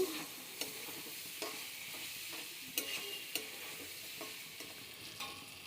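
Food sizzles steadily in a frying pan with tomato while a utensil stirs and scrapes through the mixture, sharp taps recurring every second or so over the constant hiss.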